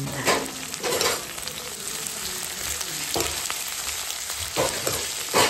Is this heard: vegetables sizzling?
yes